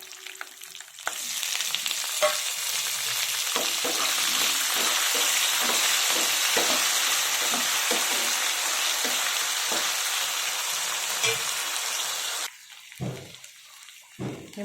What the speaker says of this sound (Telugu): ఇప్పుడు బంగాళదుంప ముక్కలు వేసేస్తున్నాను.